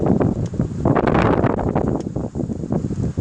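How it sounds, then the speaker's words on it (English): Hurricane Florence winds gusting hard against an outdoor microphone, a loud rumbling buffet that surges and eases in uneven waves, peaking early before settling into choppier bursts. "So we got some wind coming in now."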